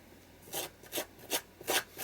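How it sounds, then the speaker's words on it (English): Material is scraped down on a metallic artist trading card in four or five short, close rasping strokes at an even rhythm, each one quick and dry. "And then I can just scrape some more down on this side."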